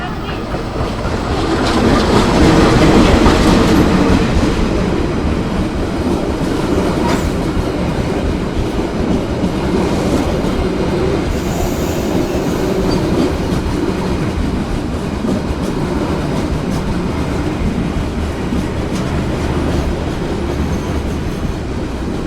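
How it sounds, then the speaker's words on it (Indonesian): The Sri Tanjung passenger train pulling into Banyuwangi Kota station, heard from on board as a continuous loud rumble with clickety-clack of wheels over rail joints and faint squeal, steady throughout. "Tanjung akan segera masuk di stasiun Banyuwangi Kota ini teman-teman"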